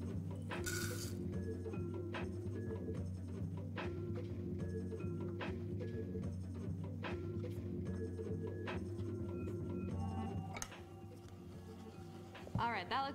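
Ingredients for an apple crisp topping are mixed in a small bowl, with repeated light clinks and scraping taps of a utensil against the dish in a fairly steady rhythm, then a few louder knocks near the end.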